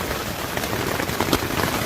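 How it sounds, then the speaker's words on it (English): Heavy rain pouring down in the wilderness along the Larder River, a dense, steady hiss of drops hitting surfaces, loud and close throughout with no talk. "it started raining at what, noon hour?"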